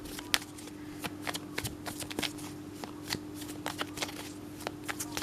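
Tarot cards shuffled for a reading, a steady run of soft riffling and flicking close by with small taps, quiet over a faint background hum.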